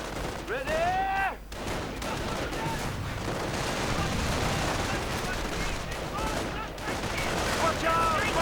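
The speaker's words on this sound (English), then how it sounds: "Really nice usage of suppressive fire." Suppressive rifle fire from infantry in a WW2 real-time strategy game, a dense continuous crackle of overlapping shots with distant booms and whistling shells, loud and unbroken, with a commentator talking over it.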